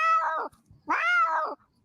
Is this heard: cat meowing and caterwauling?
yes